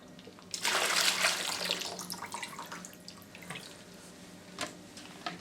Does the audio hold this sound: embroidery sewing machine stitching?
no